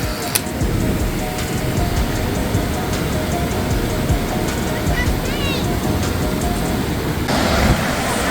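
Rushing river water below a bridge at Yellowstone, a steady broadband roar that fills the whole stretch at constant loudness, with faint voices over it.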